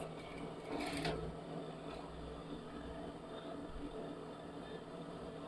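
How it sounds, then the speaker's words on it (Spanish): A sewing machine stitches a silk blouse with a steady low mechanical hum and a brief brighter rattle early on, running continuously at moderate level throughout. "y pasamos costura"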